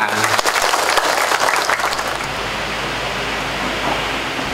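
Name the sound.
applause for the school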